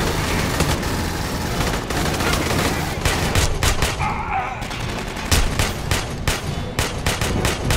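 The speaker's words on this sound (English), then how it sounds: "that was bad shooting" Loud, sustained gunfire from the Aliens: Colonial Marines video game, with rapid overlapping shots and bursts that run without a break against a dense layer of game noise.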